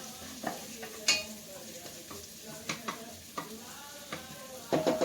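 Onions sweat and sizzle gently in a pan, a soft steady frying hiss with occasional utensil clicks and stirring taps, close by.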